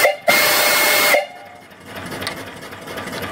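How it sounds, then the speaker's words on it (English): Whistle on a small steam boiler with an engine, one loud sharp blast of about a second that cuts off abruptly, followed by a soft hiss and mechanical background. "Tricocker over here. And the whistle."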